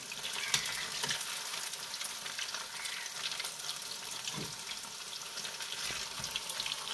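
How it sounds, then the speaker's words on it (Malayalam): Pieces of bitter gourd crackle and sizzle steadily as they fry in hot oil, a close, continuous frying hiss with faint stirring clinks and no voices. "ഇനി ഒന്ന് ക്രിസ്പിയായി ഫ്രൈ ആയി വരട്ടെ"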